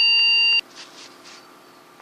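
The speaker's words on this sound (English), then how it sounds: "without a memory installed, it does beep" A computer motherboard that has no memory installed gives one steady, piercing electronic POST beep lasting about half a second, followed by faint hum and soft clicks.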